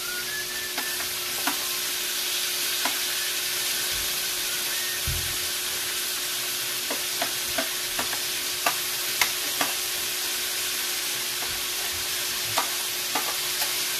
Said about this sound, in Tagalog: Igisa natin yung kamote, guys, para masarap.